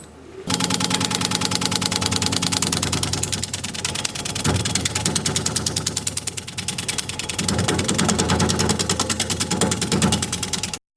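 A wood lathe turning a root at about 600 RPM, a loud, steady mechanical hum with a fine rapid rattle that keeps going throughout, close up and with no speech.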